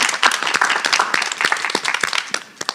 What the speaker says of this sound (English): why not clap one more time?